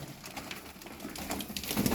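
Pigeons coo softly and repeatedly in a busy loft, overlapping low murmuring calls with some rustling around them.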